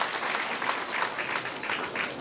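A crowd at a 2019 Manav Seva Trust honour ceremony in Mehsana claps warmly, a steady, close wash of applause lasting a couple of seconds.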